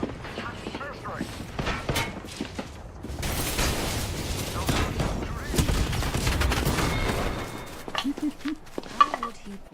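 Gunfire and explosions from an airstrike in a battle royale video game, a dense, sustained barrage of bursts and crashes lasting several seconds, with a player talking over it.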